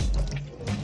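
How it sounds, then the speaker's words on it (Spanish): Tap water splashes into a sink while 200 grams of nopal cactus pads are washed by hand, a short close burst of running, gurgling water with brief drips. "vamos a lavar 200 gramos de nopal"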